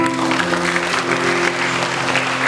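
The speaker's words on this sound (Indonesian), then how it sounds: "tepuk tangan buat Tuhan" A church congregation claps loudly and steadily in worship, a dense continuous wash of hands with a low musical hum underneath throughout.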